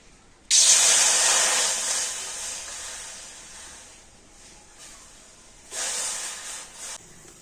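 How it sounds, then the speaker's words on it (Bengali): Two bowls of water poured into a hot kadai (wok) set off a loud, sharp sizzling hiss that fades slowly. A second, shorter burst of hissing follows a few seconds later, with no talk. "এই বাটি মাপ করে আমি 2 বাটি জল কড়াতে দিয়ে দিচ্ছি"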